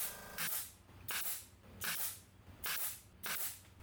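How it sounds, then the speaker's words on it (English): Five sharp staple-gun shots snap at a steady rhythm, each a loud, close, hissing burst, as fabric is fastened around the wooden frame of an ottoman being reupholstered with channels. "I stapled it all the way around"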